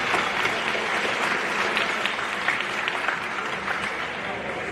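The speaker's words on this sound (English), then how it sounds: "Ladies and gentlemen, can we give our seniors one more big round of applause?" A high school basketball crowd at a Quitman versus Mineola game gives the seniors a sustained round of applause, dense and steady clapping filling the gym at a constant level.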